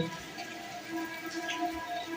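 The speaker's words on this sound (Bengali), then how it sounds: "বৃষ্টি এক নাগারে পড়েই যাচ্ছে" Steady, soft rain from Cyclone Remal patters continuously on a surface, a faint even hiss with scattered drips and no voices.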